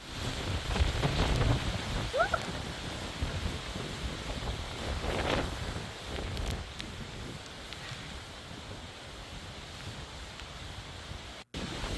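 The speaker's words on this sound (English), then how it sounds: "Winds picking up at 7 p.m. 60-mile-per-hour wind gust, says Crystal in Homosassa." Hurricane Milton winds gusting in Homosassa, Florida, around 60 mph: a steady roar of wind buffeting the microphone, with swelling gusts and rustling debris throughout, no talk.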